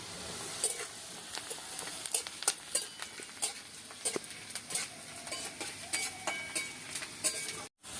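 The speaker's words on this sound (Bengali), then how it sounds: "পেঁয়াজটা একটু লাল লাল করে ভেজে নেব।" Chopped onions fry in a pan for a village-style potato curry, a faint sizzle under scattered stirring scrapes and light clinks of a utensil against the pan, with no talking.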